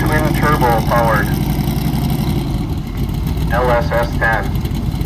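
A twin-turbo Chevrolet S10 truck idles in lane 2 at a drag race, its engine a loud, steady low rumble that stays close while an announcer talks over it throughout.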